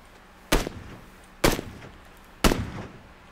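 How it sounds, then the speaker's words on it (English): Three loud, sharp gunshots crack out one by one at roughly one-second intervals in the battle-royale video game PUBG, each with a short echoing tail, against a quiet background. "What are you shooting at, bro?"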